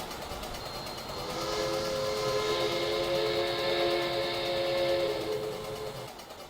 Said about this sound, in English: the K4 Pacific, double heading with a G5 10-wheeler on a express